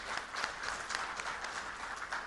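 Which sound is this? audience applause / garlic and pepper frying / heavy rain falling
audience applause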